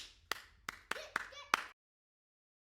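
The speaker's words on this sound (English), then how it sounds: "Clap for yourselves." Children at a Saturday school session clap for themselves in about five sharp, separate bursts, a few quick hand claps each, then a short silence before another clap starts.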